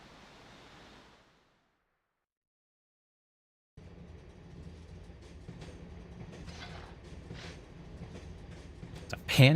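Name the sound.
train running in video game Dark Cloud 2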